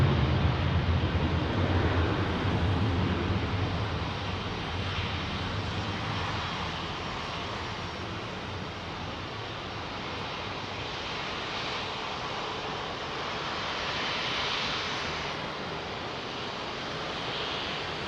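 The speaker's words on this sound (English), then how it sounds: "350's coming in pretty hot, isn't he?" Airbus A350 jet coming in fast to land on runway 27R at Heathrow, a steady, moderately distant engine roar and whine fading slightly, with wind-like rush and no talk.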